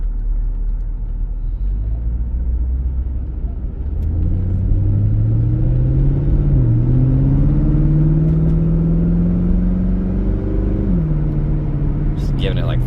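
A 2004 Chevrolet Corvette with an aftermarket exhaust rumbles deeply at idle, then rises in pitch under roughly 40% throttle, holding a loud, steady drone before the revs drop back.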